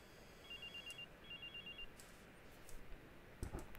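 A phone rings in the Watch Dogs video game, two bursts of electronic trilling at moderate volume, followed by faint ambient game noise and a brief clatter near the end.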